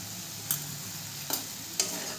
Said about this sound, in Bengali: তেলটা দিয়েও ভালো করে মিশিয়ে নেব।